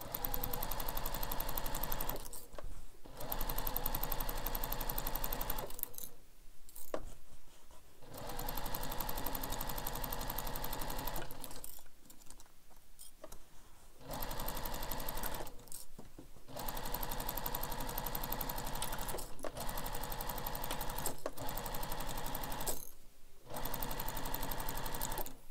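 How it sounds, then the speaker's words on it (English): A sewing machine stitches the structural seams of a handmade carryall bag, running loud and close in long steady bursts with several short pauses between runs. "make sure you're using a stitch length that you like to use for when you're sewing structural seams of your bags together"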